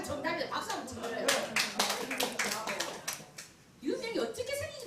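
A seminar audience claps together in a sustained burst of applause that rises and fades over a few seconds, with a voice talking over it before and after.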